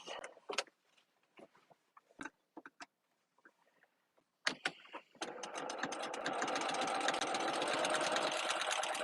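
A sewing machine stitches the front and back facings of a vinyl mesh market tote bag together. A few sparse clicks and handling taps come first, then the motor runs in a steady, close, continuous whir to the end.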